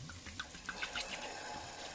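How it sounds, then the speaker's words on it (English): Sherry cooking wine is poured into a soup pot for French onion soup, a quiet liquid splash and trickle with small bubbling glugs, close and soft, without voices. "it's time to pour in the sherry cooking wine"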